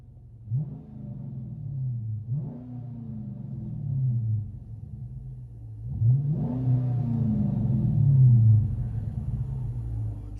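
A 2010 Dodge Challenger R/T with a 5.7L HEMI and dual Flowmaster Flow FX exhaust revs three times as heard from inside the cabin, deep rumbling blips rising and falling, the last rev held longer.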